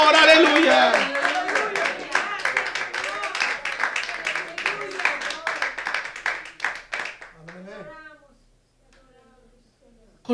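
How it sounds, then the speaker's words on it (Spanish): A church congregation claps enthusiastically in steady rhythmic bursts alongside voices and cheering, then the applause fades out, leaving near silence. "Dele un fuerte aplauso al Señor"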